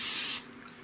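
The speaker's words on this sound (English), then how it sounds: "just quick give it a spray" A short, close burst of cooking spray hissing into a bowl, lasting a fraction of a second before cutting off to near silence.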